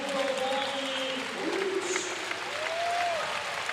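Fans of the ŁKS Łódź team applaud in a large crowd, a steady broadband wash of clapping that holds for the whole stretch, with faint whistles or tonal cries rising briefly above it.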